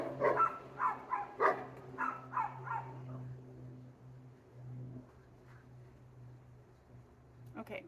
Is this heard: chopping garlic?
no